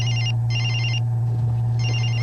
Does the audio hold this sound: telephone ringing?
yes